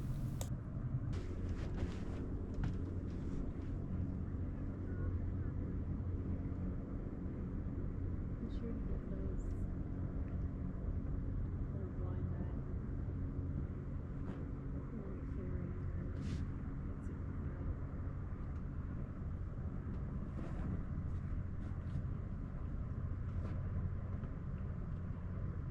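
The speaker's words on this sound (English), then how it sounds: "I'll give you a half a minute or so of silence so you can really experience what it's like to be in Blind Bay. The solitude, the peace and quiet." Quiet ambience at the Blind Bay anchorage holds as a steady, low rumbling background hum for about half a minute, with faint occasional ticks and small knocks scattered over it and no talking.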